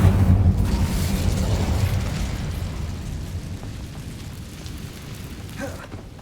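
Incendio fire spell cast in Hogwarts Legacy, a loud roaring burst of flame that opens at full force and slowly fades into a dense rumbling wash.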